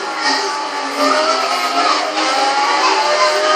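A racing car in Forza Horizon revs hard and loud with its rear end sliding out, the engine note holding steady and continuous while tyres skid through a sustained drift.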